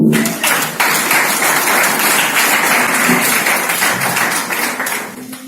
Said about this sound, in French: Acclamons pour la parole